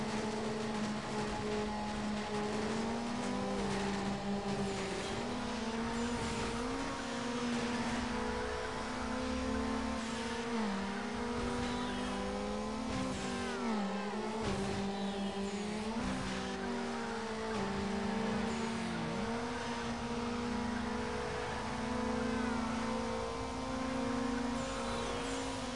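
A tuned car racing in Need for Speed Underground with Stage 2 upgrades and traction control off, its engine droning and revving continuously through gear changes, with brief tire squeals, loud and close throughout.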